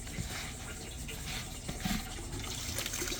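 Water draining out of a homemade backyard tilapia pond filter, a steady close gushing flow that runs continuously without pause.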